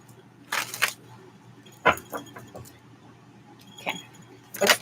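Tarot cards are shuffled close by in short, crisp bursts of riffling and slapping, separated by quiet pauses, with no talking.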